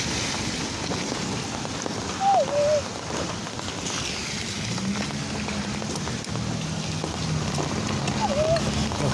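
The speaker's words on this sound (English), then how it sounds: "Here come the rain." Steady rain falling outdoors near a road, a broad continuous hiss with faint wind and occasional passing vehicle noise, with no clear speech over it.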